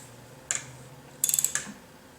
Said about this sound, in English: you take your ratchet, set it to loosen